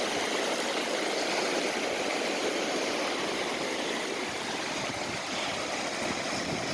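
Pacific Ocean water washing over the shore around someone standing in the surf, a steady, loud, broadband rush of churning water with no pauses, close by and without talk.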